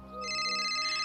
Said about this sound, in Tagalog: Yung telepono mo nagri-ring.